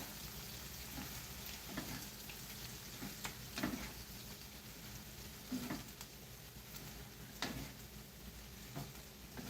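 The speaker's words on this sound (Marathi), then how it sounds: "आणि मग मात्र आपल्याला हे छानपैकी असं ढवळून घ्यायचे हे बघा" Shredded cabbage being stirred in a pan while it cooks, a quiet continuous sizzle with soft scraping strokes of the spoon recurring every second or two, no talk.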